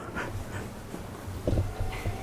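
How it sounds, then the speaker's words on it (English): Soft, quick dog panting close by, with a few small rustles and shuffles, steady throughout. "There's our dog Peppy."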